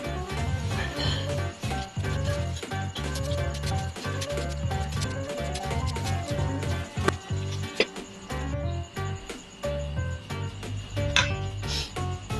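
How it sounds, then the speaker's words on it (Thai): A knife taps rapidly on a cutting board, chopping spring onions in quick uneven bursts beneath steady background music. "แล้วเขาก็จะมาหั่นต้นหอมตอเลยนะครับ"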